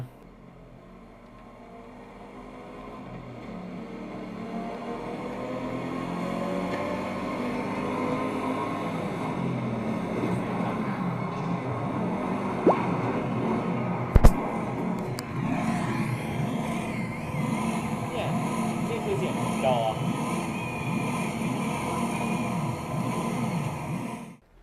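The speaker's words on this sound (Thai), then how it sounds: "ได้ยินเสียงรถไหมมันคือเสียงมาจากจอนะฮะ" A car engine hums and climbs in pitch, played back through the built-in speakers of a Dell S2725QS 27-inch 4K monitor at moderate volume, with one sharp click partway through.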